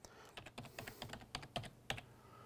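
Quick, irregular keystrokes tapped on a computer keyboard while entering a password during Active Directory user setup, a close series of light clicks with brief pauses and no talking.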